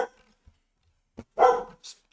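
A dog barks indoors, a short yap at the start, then a louder bark and a smaller follow-up yelp, separated by quiet gaps, fairly close to the microphone.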